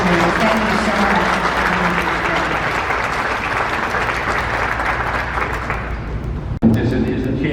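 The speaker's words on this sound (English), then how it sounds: "let's give a round of applause to these distinguished dignitaries." A seated audience at a Korean War veterans wreath-laying ceremony applauds the distinguished dignitaries with loud, sustained clapping that ends abruptly with a thump, followed by a brief moment of voices.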